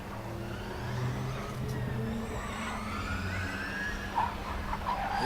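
A Formula Student race car from Bochum runs an autocross course, its engine a steady, fairly distant drone with rising and falling whine as it accelerates onto the final straight, holding on continuously without breaks.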